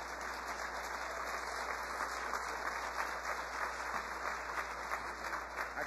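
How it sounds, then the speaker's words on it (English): Steady applause from a large audience at a county State of the County address, a dense continuous clatter of many hands that stays fairly even and moderately distant for the whole stretch, with no voices over it. "and you can applaud that."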